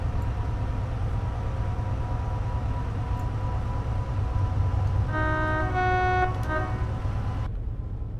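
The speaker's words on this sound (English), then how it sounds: "Just about to miss that train going past." A train passes in Train Sim World beside a Class 70 locomotive, a constant low rumble of running gear with a horn-like tonal blast sounding for a couple of seconds near the end before cutting off.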